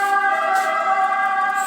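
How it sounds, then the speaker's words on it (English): An ambulance siren passing outside rings as a loud, steady, tonal wail that continues without a break throughout. "Everywhere is ambulance noise."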